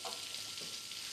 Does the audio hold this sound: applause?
no